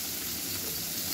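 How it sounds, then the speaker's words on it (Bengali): Rohu fish pieces fry in hot oil, a steady, dense sizzle and hiss that stays close and constant throughout. "এই রুই মাছগুলো ভেজে নিচ্ছি"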